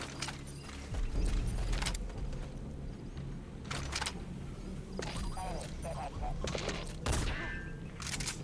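Bursts of gunfire as guards shoot prisoners in the stealth game Metal Gear Solid V, several sharp volleys spaced through the stretch, moderately loud over a murky game backdrop, with someone talking in between.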